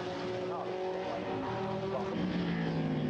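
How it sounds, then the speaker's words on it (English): GT1 race cars, including two BMWs and a Ferrari, run at Donington during qualifying, a sustained engine drone with rising and falling pitch as cars pass, heard under a commentator's voice. "The two BMWs coming through, and we've got the number 4 Ferrari, which is started by Enzo Eid"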